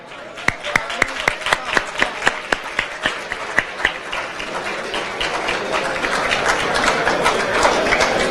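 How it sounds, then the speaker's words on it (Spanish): Audience applause closing a conference session on civic participation and democracy, beginning with loud, distinct rhythmic claps close by that swell into dense, sustained clapping from a large crowd. "Fuerte el aplauso nuevamente."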